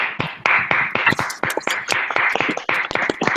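A small audience claps to welcome a speaker to a session, a close, uneven patter of individual hand claps that continues steadily without voices.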